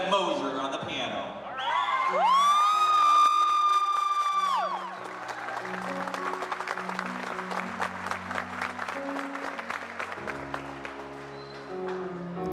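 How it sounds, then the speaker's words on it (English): Audience at a boot camp for troubled teens cheers for a cadet's piano performance, with a whoop and shouts amid clapping, while piano notes and music play alongside, fairly loud and busy. "Finally, let's hear it for Cadet Moser on the piano."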